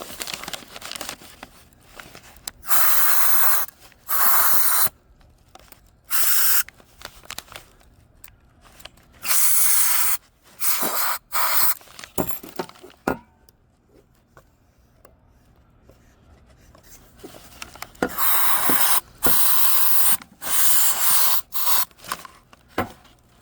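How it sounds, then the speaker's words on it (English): Repeated bursts of compressed air hiss loudly in short spurts into a stuck Weather Guard lock, separated by pauses with faint clicks and handling noises in between. "So I got some air spray. We will try this a little bit."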